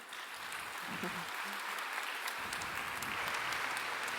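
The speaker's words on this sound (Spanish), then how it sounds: "Pues oiga fuerte el aplauso para nuestra conferencista" Steady applause from a conference audience at an international education congress, a dense even patter of clapping held throughout at moderate level, with a brief voice murmuring near the start.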